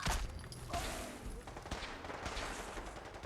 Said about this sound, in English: Opening fire! Oh, there's a turret.